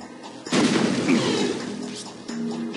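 A single sharp gunshot in the video game Odium (Gorky 17), a loud burst with a short decaying tail, followed by a second fainter report, with no talk over it.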